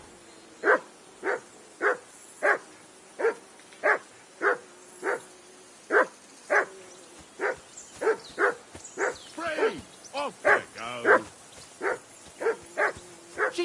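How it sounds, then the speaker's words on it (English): A dog in the video game Kingdom Come: Deliverance II barks in a steady series of sharp, evenly spaced barks, close and loud, while a voice speaks over the later part. "that barking's driving me nuts. Can you get your dog to shut its beak?"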